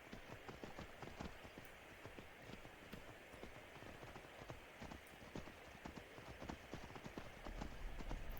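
Horse hooves clip-clop steadily in Skyrim, a dense run of close, regular strikes continuing throughout over a constant background wash.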